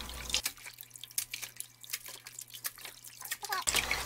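Raw oysters are rinsed in water, with close splashing, dripping and trickling sounds and sloshing bursts at the start and end, no voices over it.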